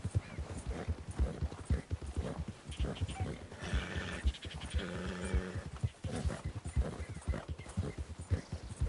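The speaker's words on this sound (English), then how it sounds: "making a lot of huffing and puffing and noises because he is not used to running around in the snow" Rhythmic hoof clip-clop of a horse moving steadily through snow near a lake in Red Dead Redemption 2, with heavy huffing breaths and a brief whinny mixed in, fairly close throughout.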